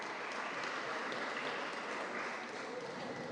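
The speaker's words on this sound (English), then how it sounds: "Don't we deserve a hand clap?" A school alumni meeting audience claps in a dense, even wash of hand clapping, somewhat distant and fairly quiet throughout.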